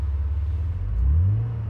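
A classic Mercedes tuned by AMG Japan gets its engine revved, a close, deep rumble that rises in pitch as the throttle opens and then settles back, with no voices.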